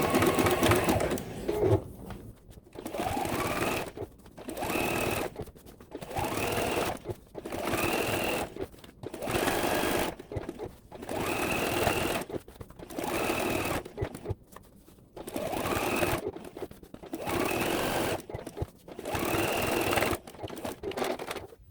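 Sewing machine stitching applique on a Christmas tree quilt, running in steady bursts of rapid mechanical whirring and clatter separated by brief pauses, close and fairly loud throughout.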